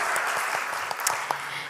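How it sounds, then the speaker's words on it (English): An audience at a live event in Dubai applauds the sponsors, a brief, steady wash of clapping from a crowd, with a few sharper claps near the end. "Let's have a huge round of applause for all our sponsors."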